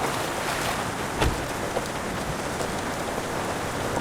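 Rain falls in a steady, dense hiss at moderate volume, with a couple of brief louder patters from drops landing close by and no voices.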